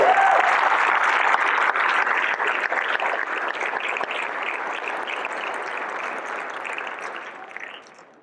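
A church congregation breaks into loud, full applause that holds strongly for several seconds, then thins and fades out near the end, with no speech over it.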